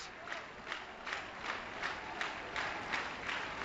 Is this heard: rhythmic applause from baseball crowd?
yes